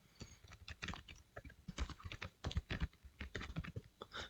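Keys on a computer keyboard clatter in quick, irregular bursts of close, crisp clicks as an email address is typed, with no talking.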